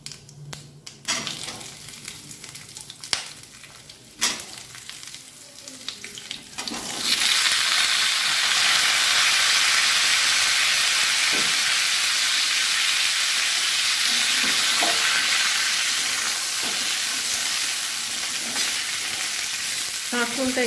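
Spine gourd frying in a pan of oil with bay leaf and cumin over a low gas flame, a steady loud sizzle that starts abruptly and holds, after earlier clatter and utensil knocks.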